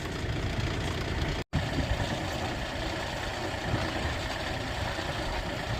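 A tractor engine idles steadily while it cleans out a wet hole in the ground, a continuous broadband rumble and clatter with one brief dropout near the start.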